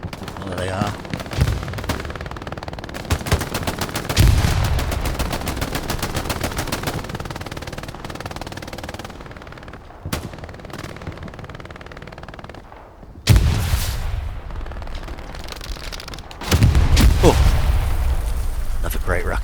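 Heavy booming rocket blasts erupt amid constant rattling machine-gun and rifle fire in a Hell Let Loose World War II infantry battle, with sudden loud low-end impacts standing out from the dense combat noise while voices talk over it.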